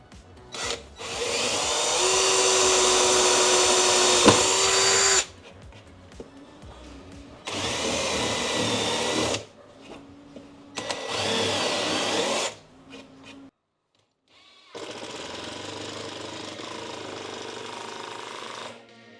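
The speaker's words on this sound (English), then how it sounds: "we're going to start off by doing a pilot hole through the timber into the steel" Power drill boring a pilot hole through timber into steel for a DIY wheel stand, loud close whirring bursts lasting several seconds each, separated by short pauses and ending with a final lower-pitched run.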